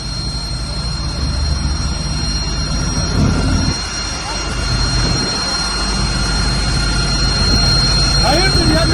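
A firefighting helicopter works over a burning pine forest near the Iskenderun–Antakya road in Belen, its loud, steady rotor and engine roar continuing throughout under people talking.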